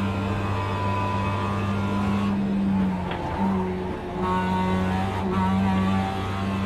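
A race car engine in a racing video game revs high while exiting a corner, a steady loud droning whine with a brief dip and change near the middle, close and continuous, no talk.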